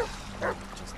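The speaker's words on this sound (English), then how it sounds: "he's a dog. Leave him be." A dog in the Blair Witch video game gives a short bark or yip near the middle of a brief moment, moderately close, over a low ambient background.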